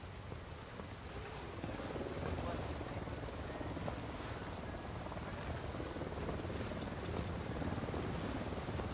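A cartel supply helicopter in Ghost Recon hovers as a steady broadband rotor and engine roar, fairly loud and continuous over nine seconds, with wind-like rushing noise.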